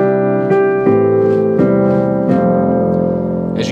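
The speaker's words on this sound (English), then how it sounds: "Now, if you wanted to, you can change up to the uprights, and they sound like this." Upright piano patch on a Nord Stage 2 keyboard plays a short sequence of sustained chords struck about every three quarters of a second, close and clean, ending with a brighter high note.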